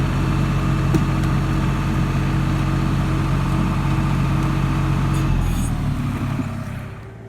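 A New Holland TD90 tractor engine labours steadily while pulling on a forest road repair job, a continuous mid-pitched chugging drone that fades toward the end.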